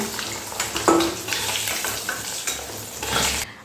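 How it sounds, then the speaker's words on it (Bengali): Eggs fry in a pan with a close, steady sizzle and crackle, broken by a few scraping and clinking knocks as they are moved about, before the sound drops away at the end. "ডিম কিন্তু খুব ভালো করে ভাজা হয়ে গেছে এই ডিমগুলো আমি তুলে নিচ্ছি"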